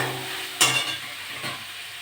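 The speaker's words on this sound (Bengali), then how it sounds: "মশলাটা ভেজে নেবো" Spice paste for a spicy pangas fish curry frying in a pan, a steady soft sizzle broken by two brief stirring scrapes, close and with no talking.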